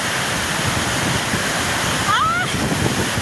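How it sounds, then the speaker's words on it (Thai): Steady heavy rain roars with a dense, unbroken hiss, and a voice briefly murmurs near the end. "ฝนตก"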